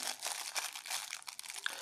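Paper wrappers and plastic foil crinkle and rustle up close while a parcel from China is unboxed, a quiet burst of brittle crackling lasting under two seconds, with no talk.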